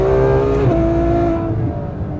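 A front-engined Ferrari road car at wide-open throttle in third gear on a racetrack, a loud close engine roar with a steady rising pitch and a brief dip partway through, with no voices.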